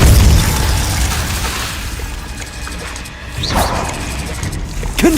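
A Confringo blasting spell explodes in the Hogwarts Legacy video game. A loud boom opens and slowly fades into crackling debris, followed by a few smaller pops and thuds.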